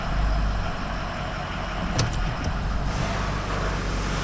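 A 2005 Ford F250 pickup with a 6.0 Powerstroke diesel and 5R110 transmission idles steadily in gear, a constant close engine drone with a few faint clicks midway and no talking.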